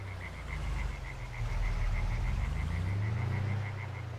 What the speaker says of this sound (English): Oh, frogs in the pond.